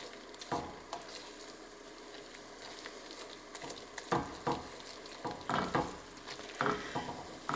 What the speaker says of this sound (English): we're just going to let that cook a little while, just to get that raw flour taste out of it